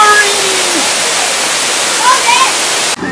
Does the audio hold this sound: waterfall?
yes